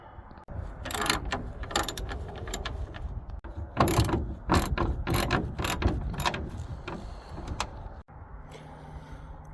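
A hand ratchet loosens the front grille nuts on a Ford F-150, its rapid clicking close and loud in several bursts, broken by short pauses.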